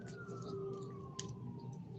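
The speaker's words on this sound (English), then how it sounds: "Then you have police sirens outside my house." Police sirens wail outside a house, a faint steady tone sliding slowly downward over a low background rumble, with no talk.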